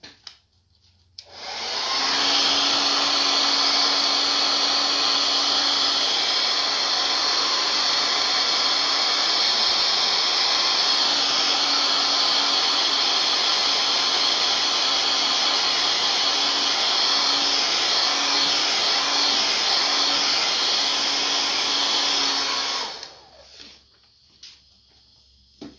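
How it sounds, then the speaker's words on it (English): A hair blow dryer runs steadily at close range for about twenty seconds, drying wet paint on a whimsical lemon-themed door hanger, with a loud continuous whoosh and hum that cuts off abruptly near the end. "Let me get my blow dryer."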